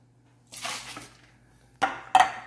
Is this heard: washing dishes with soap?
yes